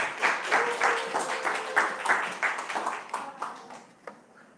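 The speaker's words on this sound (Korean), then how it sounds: "우리 김지현 교수님 모실 때 큰 박수로 환영 부탁드리겠습니다." Audience clapping to welcome a professor to a lecture, moderately loud, with rhythmic, somewhat unison claps that gradually thin out and trail off to a few scattered claps at the end.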